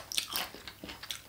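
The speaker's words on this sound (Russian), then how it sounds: "Так, попробую сыр." Soft feta cheese, eaten as part of a Greek salad, being bitten and chewed close to the mic: quiet, irregular moist bites and chewing sounds in a short burst with no talking.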